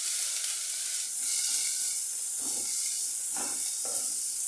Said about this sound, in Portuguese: Aqui vamos fritar o alho, um pouquinho da cebola